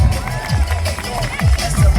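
Crowd noise rises at a UK drag-strip show as drift rider Lee Bowers is introduced on his Kawasaki 636, steady dense cheering with engine rumble and smoking rear tyre sounds underneath, loud and continuous throughout.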